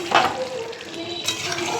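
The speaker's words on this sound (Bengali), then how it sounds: "একটু হালকা হালকা করে না নেড়ে নিলে" Fish curry with yogurt in a frying pan, just topped with ghee and gently stirred: a short burst of close stirring and scraping over a steady soft sizzle, with no voices.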